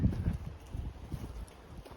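Soft, irregular hoof clops of half-wild horses moving on ground, faint and somewhat distant, with low rumbling background noise.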